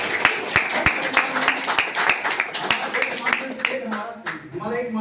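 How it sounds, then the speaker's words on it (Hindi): An audience gathered at a Hindi-language event honouring army veterans claps in scattered, uneven bursts, with a voice speaking over the applause before it trails off. "ताली हो जाए सब लोगों के लिए"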